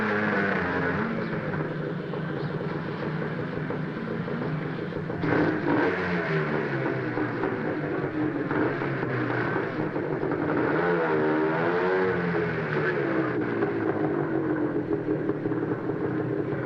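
A taxi rickshaw fitted with a 10-horsepower engine revs and runs, its buzzing mid-pitched motor rising and falling through several throttle blips over a constant droning note.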